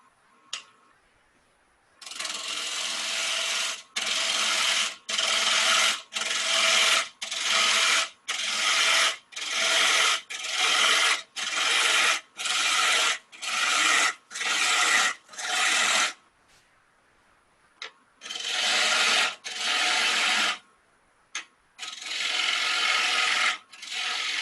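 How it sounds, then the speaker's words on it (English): A woodturning lathe tool cuts into a spinning wood blank to rough out a platter tenon, sounding as a close, loud, rhythmic series of rasping scraping passes, each about a second long with short pauses between, no talking. "So this is just wasting some wood away now."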